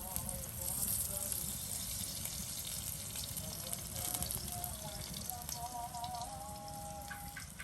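Boras (fritters) fry in hot oil with a steady, bubbling sizzle heard close by and moderately loud, running continuously under faint background sounds.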